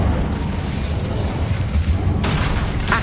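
Incendio fire spell cast in Hogwarts Legacy, a rumbling whooshing burst with a booming roar that swells, then a sharp brighter crackle near the end, alone without talk.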